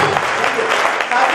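An audience at a network marketing training event claps in a brief burst, a dense, fairly loud patter of many hands with some voices mixed into the noise.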